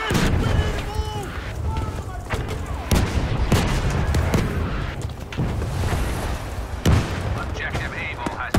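Artillery fire in Battlefield 5 Breakthrough at Al Marj Encampment: repeated heavy booming impacts and dense gunfire across a busy battlefield, with voices calling out over the din.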